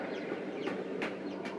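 Blue silkie hens in a barn clucking softly, a few short clucks rising over a quiet room background, fairly faint and close with no voices.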